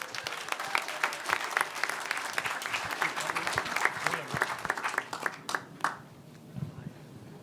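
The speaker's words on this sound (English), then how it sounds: "give yourselves a round of applause" Audience applause at an investiture ceremony at Decatur House: a dense, sustained crowd clapping close by that thins into scattered claps before fading out.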